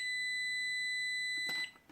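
A FNIRSI 3-in-1 oscilloscope multimeter emits a steady, clear continuity beep for about one and a half seconds, close and alone, before it cuts off amid faint handling noise.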